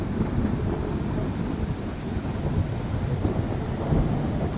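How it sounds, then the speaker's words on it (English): Close thunder rumbles loud and steady right after a lightning flash, with heavy rain pouring throughout during a storm over a sailboat. "That was flash and then thunder almost right afterwards."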